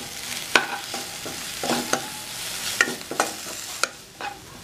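A spoon scrapes and taps against a frying pan in irregular strokes as paneer masala is stirred, with a soft sizzle underneath.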